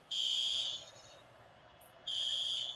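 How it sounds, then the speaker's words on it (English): A building fire alarm sounds in two loud, steady, high-pitched tonal bursts separated by a quieter gap, heard indoors with faint background noise. "I have a fire alarm in my building."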